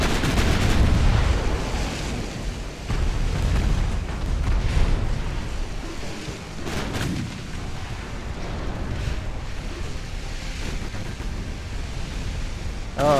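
A torpedo salvo in Ultimate Admiral: Dreadnoughts, a dense roaring rumble of naval battle with repeated heavy booms under a steady wash of noise.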